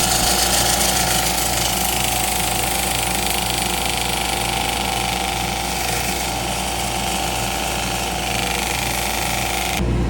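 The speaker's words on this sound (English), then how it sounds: "My sanding usually starts at 80 grit and goes all the way to 800." A loud, steady grinding whir with a fast low throbbing underneath as a birch burl and resin box is sanded on a wood lathe, running continuously, then cutting off abruptly at the very end.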